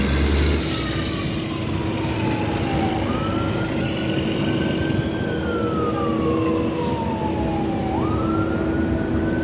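An ambulance siren wails in slow rising and falling sweeps, heard over loud, constant city street traffic rumble from inside a vehicle near road milling work.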